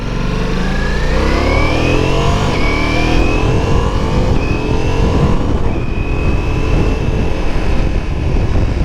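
A Ducati Multistrada V4 S motorcycle engine pulls away from a light on a busy street, loud and close, its pitch climbing through several gear changes with steady road noise underneath.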